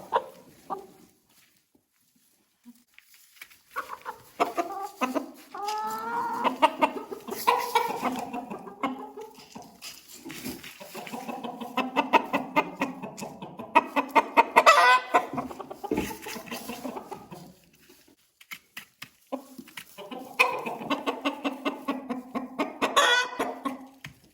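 A rooster and hens of a blue-egg-laying breed cluck in bursts, the rooster's calls standing out now and then over a steady run of clucking close by.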